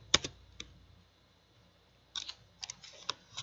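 Laptop keyboard keys are tapped to enter a shutdown command on a network switch interface: a quiet, sparse patter of light clicks, a couple near the start, then a short irregular burst after a lull, with no talking.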